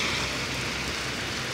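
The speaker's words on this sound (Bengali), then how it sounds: "সৌদি আরব মাশাল্লাহ অনেক বৃষ্টি হইতেছে" Heavy rain pours down in Saudi Arabia as a dense, even hiss that stays loud and unbroken through the brief moment, with no voices.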